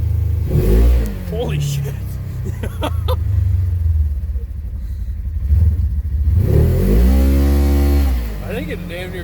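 A Polaris General UTV with a Gilomen clutch kit and tuned ECU revs and accelerates hard, its engine note climbing loudly close by, while a man exclaims over it.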